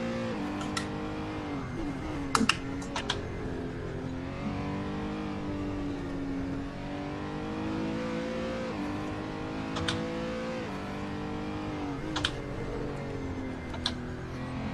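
Race car engine in a sim racing game revving hard and bouncing off the rev limiter, a continuous loud buzzing drone that rises and dips with gear changes, punctuated by brief clicking ticks.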